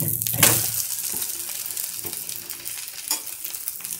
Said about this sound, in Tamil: ஒரு சைடு வெந்துருச்சு, நம்ம இன்னொரு சைடு திருப்பி போட்டுக்கலாம்.